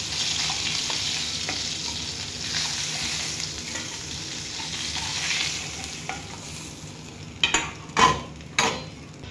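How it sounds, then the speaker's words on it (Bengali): Fish frying in hot oil for a Bengali fish curry with thankuni leaves, a steady close sizzle with stirring scrapes and a few louder bursts of spattering near the end, no talk. "মাছ ভাজাটা আমাদের হয়ে গেছে"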